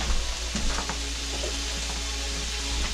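Shrimp and kabob ingredients cooking together in a pan, a constant close sizzle over a low steady hum, with a few scattered clinks and shifting noises.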